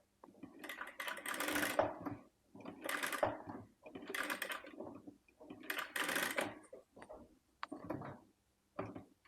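Domestic sewing machine stitching folded, pleated lining cloth for a baby yoke frill frock, close rattling bursts of rapid needle strokes, about five runs of one to two seconds separated by short pauses, with no talking.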